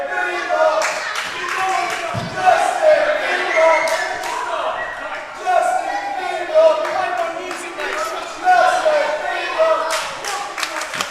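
Crowd at a wrestling show with scattered clapping, thuds and shouts under and between talk, arriving in uneven bursts that rise and fall.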